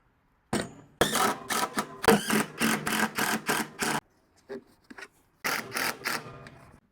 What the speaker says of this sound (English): Let's see if we can get that with the new planer.